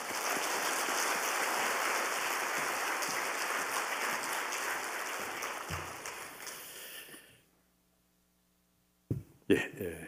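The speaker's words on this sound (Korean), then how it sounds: "뜨거운 박수로 맞으시기 바랍니다." A church congregation applauds warmly for a guest preacher at an evening service, a dense, steady wash of clapping that holds for several seconds, then fades out to near silence before a few brief sounds near the end.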